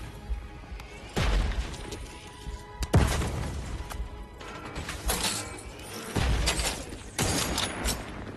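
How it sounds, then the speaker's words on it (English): Mortar rounds land in a video game, several booming crashes spaced a second or two apart, each a sharp blast with a rumbling tail over a low background. "There's a mortar."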